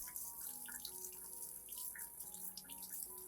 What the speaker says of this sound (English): you need to thoroughly rinse the entire orchid plant again with clean water